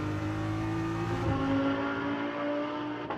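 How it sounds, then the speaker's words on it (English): A BMW GT race car in FIA GT World Cup practice on the Macau street circuit roars loudly and steadily as it passes near, its engine note rising and shifting with a brief dip midway, no voices. "The other BMW of Sheldon van der Linde in the meantime is barking its way down towards the R-bend."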